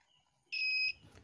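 A homemade battery-powered buzzer soldered into a circuit built with a used can lets out one short, loud, steady electronic beep of about half a second, followed by faint rustling.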